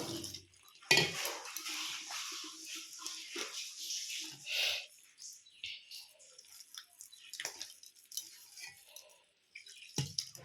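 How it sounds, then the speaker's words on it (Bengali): Batter for Bengali saruchakli pitha is mixed with water in a bowl: wet stirring and sloshing with scattered clinks of a utensil against the rim, continuing in uneven bursts with brief pauses. "এবার জল দিয়ে ব্যাটারটা তৈরি করব"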